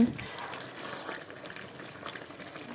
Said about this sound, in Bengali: এখনই দেখো ঝোল দেওয়া হবে।